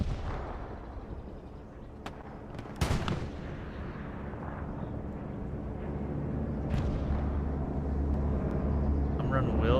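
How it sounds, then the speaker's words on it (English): Bombing run in Hell Let Loose: a sudden loud blast rings out amid distant rumbling artillery-like booms, with a low continuous roar building underneath and some voice chatter. "the bombing run is going to come in"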